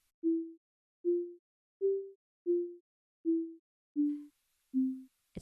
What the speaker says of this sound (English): a pure sine tone with different envelopes